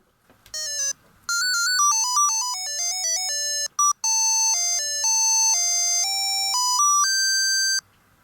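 A watch alarm plays a loud electronic ringtone melody of bright, steady beeping tones through headphones, running continuously with one brief gap and no talk.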